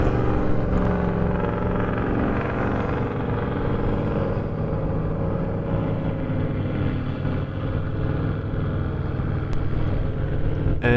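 An off-road vehicle climbs the soft sand of the Bilbunya Dunes near Israelite Bay, Australia, its engine a loud, steady droning rumble that holds for the whole stretch with no talking.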